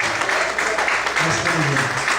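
A church congregation applauds during a Sunday morning service, with steady clapping close by and voices mixed in throughout.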